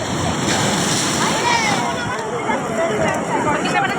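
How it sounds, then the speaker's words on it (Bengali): Sea waves surge and break at the estuary mouth at Digha, close and loud, with a roaring wash of surf mixed with gusty wind buffeting the microphone. "দেখুন ঢেউটা কেমন গায়ের উপর এসে আছড়ে পড়ছে।"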